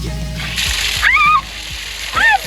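Water sloshes and splashes from a newly installed water line at a tiny house, with bursts of gushing flow while voices talk and a child calls out over the top.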